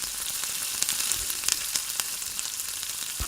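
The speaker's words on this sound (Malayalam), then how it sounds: "അപ്പം നമ്മുടെ സ്പ്രിംഗ് റോളിൻ്റെ എല്ലാ ഭാഗവും ഒരുപോലെ പൊരിഞ്ഞു വന്നിട്ടുണ്ട്." Chicken spring rolls frying in hot oil, a steady close sizzle with crackling pops and bubbling throughout, no talking.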